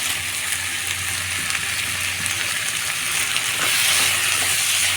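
Tomatoes fry in a pan for a cabbage masala curry, giving a loud, steady sizzle with bubbling crackle that holds evenly throughout without talk.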